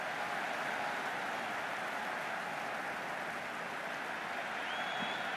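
A dense, steady roar of stadium crowd noise fills a roofed ground during a Cricket 26 video game match, loud and continuous throughout without distinct breaks.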